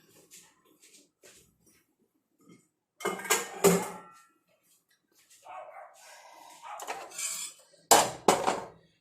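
Metal cooking pots clank and scrape in a few short bursts close by, separated by quiet gaps.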